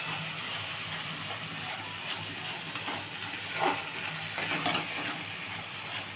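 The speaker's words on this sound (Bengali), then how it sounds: "আচ্ছা, আমার এবারে মশলাটা কষা হবে।" Spice paste (masala) for doi katla, a Bengali fish curry, frying in oil in a pan: a steady sizzle and hiss throughout, with a few scraping stirs toward the end.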